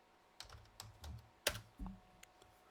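Typing on a computer keyboard into an image search, with a few separate keystrokes and short bursts of clicks spread unevenly, close and fairly quiet with no talk.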